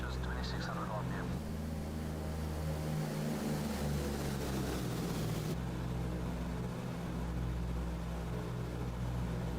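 Douglas DC-6B piston propeller engines at climb power in a flight simulator, a loud, steady, low droning hum that continues without a break.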